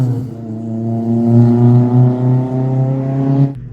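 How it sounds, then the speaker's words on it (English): A Honda S2000's inline-four engine revs up, holding a high, smooth, buzzing tone for about three seconds before cutting off sharply, loud and close with no talk. "So here's a clip of the S2000."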